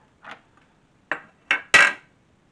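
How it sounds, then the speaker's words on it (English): A frying pan being set on a stove: four separate metallic clanks and knocks, the last two louder and closer together, each ringing briefly into quiet, no talking. "we're going to go ahead and set up the pan here"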